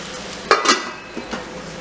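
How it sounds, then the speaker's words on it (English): A utensil briefly scrapes and stirs onions cooking in a pan for tomato gravy: two quick scraping strokes over a soft background sizzle, then a couple of fainter scrapes. "give it a quick stir"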